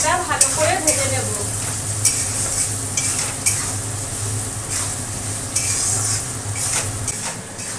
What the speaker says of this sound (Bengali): চালটা ভালো করে ভেজে নেব